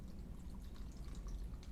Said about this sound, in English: Then I'm just going to put the water just right below where the corms are.